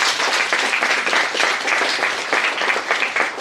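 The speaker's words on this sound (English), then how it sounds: "Can we clap for that, please?" Audience at a book launch applauding steadily with dense, continuous clapping throughout, moderately loud and close, with no talk over it.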